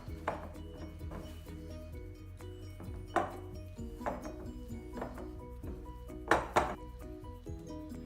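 Peanut butter energy ball mixture with shake powder is stirred in a bowl, giving faint scraping and a handful of sharp utensil clinks against the bowl, spaced irregularly.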